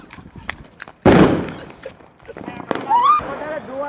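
A firecracker bomb bursting on Diwali, one sharp loud close blast followed by a decaying crackle and rumble, with people talking before and after.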